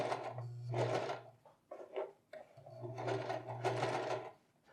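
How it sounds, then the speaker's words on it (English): Sewing machine running a short zigzag stitch on a pants fly, two bursts of steady motor whirring separated by a brief pause with light handling clicks, close and moderately loud. "just sew a little zigzag stitch right here to connect the two"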